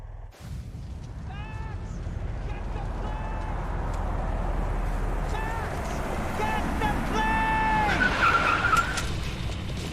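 Car driving hard and skidding in Max Payne 3, a steady engine roar under repeated short tire squeals and screeches, with shouting voices over the action.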